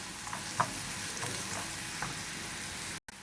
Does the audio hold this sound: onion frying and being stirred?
yes